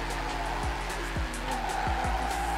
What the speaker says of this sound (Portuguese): Mas tá dando pra fazer um drift muito louco.